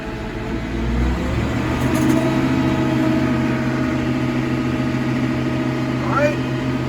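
A tractor engine runs steadily in third gear while cutting hay, a low continuous rumble close by with someone talking over it.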